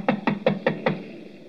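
Five sharp knocks on large glass doors, a radio drama sound effect set at night outside a wax museum, struck in an even rhythm about every fifth of a second, close and fairly loud, then fading into a quiet room tone.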